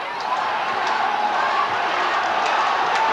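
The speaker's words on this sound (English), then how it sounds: "Plenty to cheer about now for the Sydney Croatia supporters." A big crowd at Parramatta Stadium roars for Sydney Croatia during the 1988 National Soccer League grand final against Marconi, a broad, sustained cheer heard at a distance with faint sharp accents.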